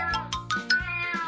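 Stray kittens meow over one another in a dense, overlapping chorus of high, tonal cries, close and loud, with no talking.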